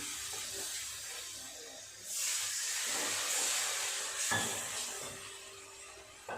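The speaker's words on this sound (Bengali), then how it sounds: "মশলাটা খুব ভালোভাবে কষানো হয়ে গেছে অল্প একটু জল দিয়ে দেবে" Water poured into a hot pan of well-fried spice paste for a potato curry, a quiet background hiss that swells into a louder steamy sizzle midway and keeps going, close, with no one speaking.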